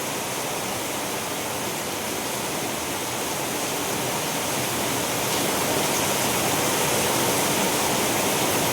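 Heavy monsoon rain and flowing water in Lonavala make a dense, unbroken roar that stays loud and steady throughout and swells slightly toward the end, with no voices.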